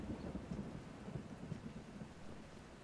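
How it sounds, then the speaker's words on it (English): Steady rain with low rumbling thunder from the Kingdom: New Lands video game, a continuous moderate downpour hiss under rolling low booms, with no voices. "It's raining, that means we're gonna have a bad time"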